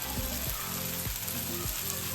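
Paneer tikka sizzles steadily in a pan, a close, continuous crackling hiss with a few soft clinks of stirring over a low hum.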